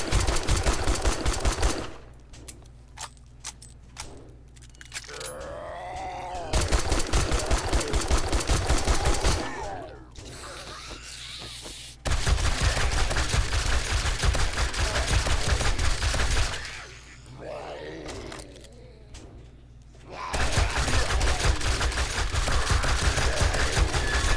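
Bursts of rapid video game gunfire from a loaded gun, loud and close, come in several long volleys separated by short pauses.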